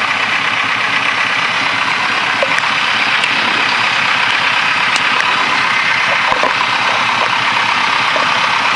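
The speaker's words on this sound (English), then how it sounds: "The engine is running nice and smooth." A light aircraft's piston engine idles during a pre-takeoff run-up at Emporia-Greensville Regional Airport, a steady, loud, continuous drone with a broad hiss, close and unbroken throughout with no talk over it.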